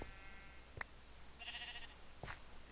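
Sheep in Minecraft bleat a few times, short wavering cries standing out clearly over a quiet game background, with soft footstep-like thumps between them.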